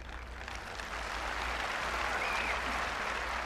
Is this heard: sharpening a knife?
no